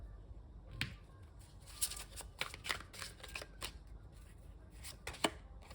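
Tarot cards are shuffled and drawn in a quiet room, giving soft, close riffling and crisp flicks in irregular bursts with short pauses between.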